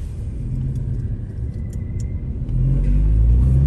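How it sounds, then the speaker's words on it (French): A street-legal DTM-style sports car idles with its exhaust valve closed, giving a low, steady, muffled rumble that swells slightly louder toward the end, close by with no voices. "Là, c'est en ligne en clapet fermé."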